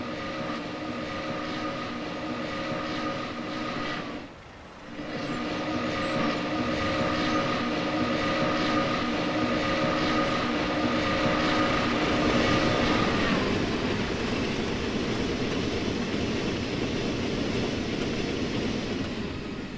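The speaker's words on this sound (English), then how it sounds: "a surprise in the form of a high-speed express powered by a J" A high-speed express train hauled by a J locomotive rolls past in Cincinnati, a loud, sustained rumble with steady tonal hum and wheel noise, dipping briefly before swelling and continuing.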